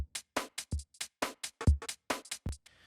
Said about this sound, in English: So with the kick and the snare and the percussion loop together